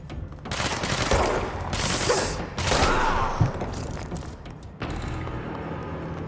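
Gunfire in the action video game Control as enemies are shot at close range: sustained bursts of rapid shots with thumping impacts, loud and dense, with a brief lull near the end.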